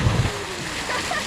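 Someone jumps into the blue pool below a waterfall on Mindoro Island, Philippines, making a short, loud splash at the start, followed by a brief wash of churning water.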